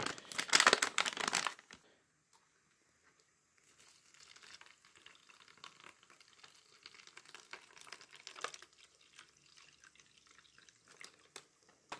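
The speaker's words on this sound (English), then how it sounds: "it tells you to add water until you reach this line over here." A brief loud gush of water pours into a plastic US military MRE ration pouch, followed by quieter crinkling and handling of the bag.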